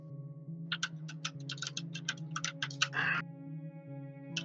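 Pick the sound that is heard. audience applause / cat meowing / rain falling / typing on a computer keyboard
typing on a computer keyboard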